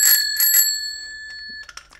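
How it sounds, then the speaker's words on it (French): A bicycle bell mounted on the handlebar of a restored vintage Goussard women's bike rings twice in quick succession with bright, sustained metallic tones that slowly fade, followed by faint handling sounds. "même la sonnette que j'ai installée sur le guidon"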